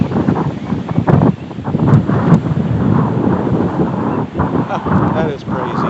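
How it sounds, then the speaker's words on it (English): Strong gusting wind on a bridge over the Arkansas River buffets the microphone in loud, rough blasts while a person talks over it. "it did not get windy till I walked up on this bridge"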